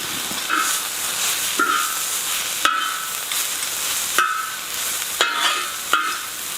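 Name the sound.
ginger and garlic frying with vegetables on a discada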